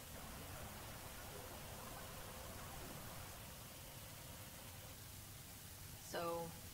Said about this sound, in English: So, white noise?